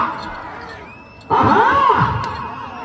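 At a bull race, a crowd murmurs and then suddenly erupts into loud shouting and cheering that carries on, with a brief whistle-like tone beforehand.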